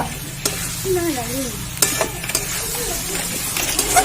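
Chicken kosha sizzling and frying in a pan, with a steady hiss and occasional scrapes and clinks of a spoon stirring the meat, close and continuous.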